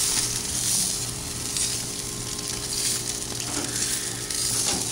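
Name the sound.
food sizzling on a grill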